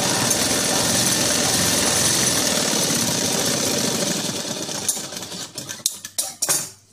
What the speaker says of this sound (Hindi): इसमें हम गैप देते हुए और एक सिलाई ले लेंगे।